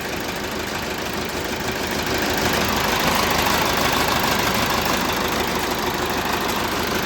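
YuMZ tractor 6-cylinder diesel idling while it warms up after a crankshaft replacement, a loud, steady low rumble with a dense knocking texture, close by and continuous.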